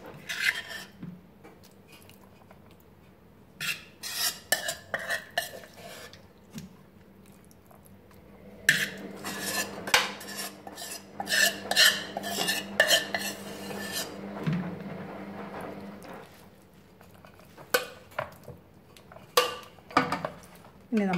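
Whole chicken pieces being layered into a pot for Hyderabadi dum biryani, heard as scattered close clinks of utensils against the pot and soft wet handling noises, in bursts separated by quieter pauses.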